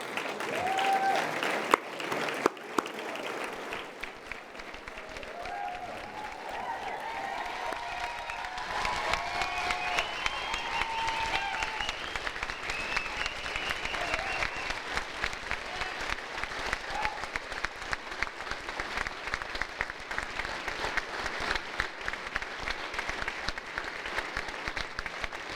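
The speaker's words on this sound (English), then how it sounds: "and again, applaud them again" A large audience applauds at a stained-glass window unveiling, starting as scattered claps, then swelling into sustained, dense clapping mixed with cheers that continues steadily to the end.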